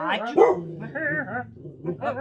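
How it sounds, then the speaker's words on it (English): A dog barks and yips in a few sharp bursts close by, with a person talking over it. "Dog alert, bark alert, bark alert."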